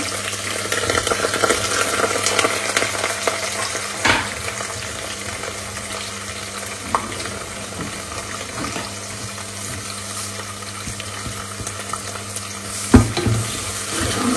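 Onions frying and being stirred in a pot give a constant close hiss, with occasional spoon knocks against the metal and a sharp clank near the end.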